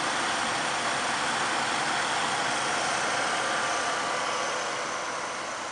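The Ford 5.0-liter fuel-injected V8 of a 1987 Mercury Grand Marquis LS idles steadily nearby, a constant rumbling drone with a faint, even hum and no voices.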